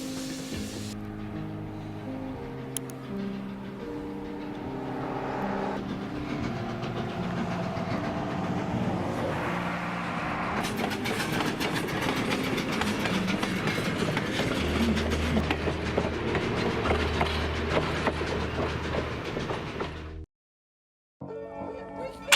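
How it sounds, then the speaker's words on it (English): Shay geared steam locomotive No. 10 climbing a forest grade, a dense steady roar of clattering gears, hissing steam and rhythmic chuffing that carries on loud and continuous before cutting off near the end. "Shay number 10, gear clatter, climbing grip like claws."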